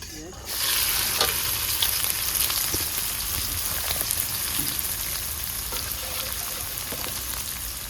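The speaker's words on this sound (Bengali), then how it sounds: "পেঁয়াজটা ভাজা হয়ে গেছে" Onions frying with whole cumin in a kadai, a loud steady close sizzle that starts abruptly after a brief quiet moment, with occasional stirring clinks and no talking.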